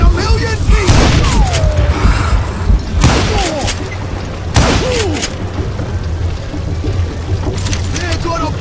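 Gunfire from the Western shooter Call of Juarez Gunslinger rings out in loud, sharp bursts near 1, 3 and 4.6 seconds over a dense game soundscape, with a few quieter cracks later.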